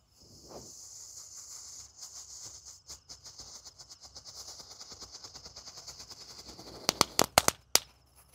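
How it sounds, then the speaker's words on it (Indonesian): A disco firecracker crackling outdoors in a dense, rapid string of pops that builds steadily, ending in several loud sharp bangs. "Lanjut yang kita nyalakan di sini ada mercon disco pretek."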